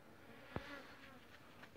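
Faint mosquitoes whine softly and steadily around a hunting blind at a cassava and corn bait site at dusk, with one brief knock partway through.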